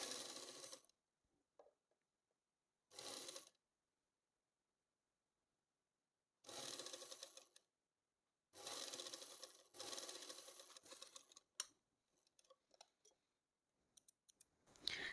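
Sewing machine stitching a saree blouse piece runs in several separate bursts of rapid mechanical clicking and whirring, with quiet pauses between the runs and a few brief clicks near the end.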